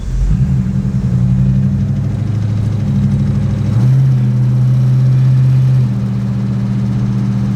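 A classic car driving along the road, its engine holding a loud, steady low rumble with a slight shift in pitch partway through, heard from close by with no talk.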